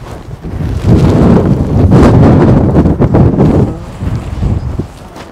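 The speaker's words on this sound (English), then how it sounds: "At the moment, a lot of wind on top of Mount Bruny." Strong gusting wind buffeting the microphone on top of Mount Bruny in Tasmania, loud rumbling blasts rising and falling over a few seconds.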